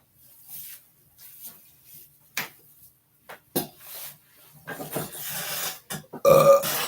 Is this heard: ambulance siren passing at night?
no